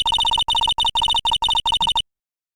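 A telephone in the Phoenix Wright: Ace Attorney video game sounds a run of rapid, evenly pulsed electronic beeps in short groups, clear and alone, ending abruptly.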